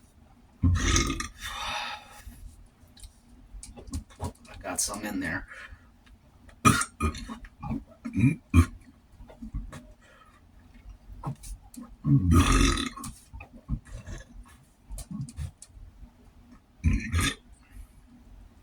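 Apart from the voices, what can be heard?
person burping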